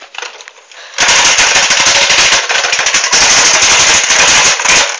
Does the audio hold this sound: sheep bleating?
no